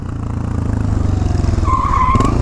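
BMW GS650 motorcycle sliding into a drift, its engine droning loudly throughout while a tire skid squeal rises near the end, close and alone without talk.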